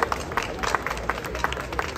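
Audience applause breaks out at a Pride (CSD 2024) panel with bar hosts, a steady, dense patter of many hands clapping at moderate volume, with no talking over it.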